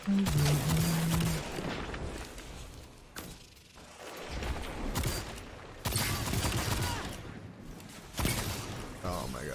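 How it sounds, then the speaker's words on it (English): Video game gunfight with bursts of rapid gunfire and clattering impacts coming in loud waves, mixed under a player talking. "Gunfight"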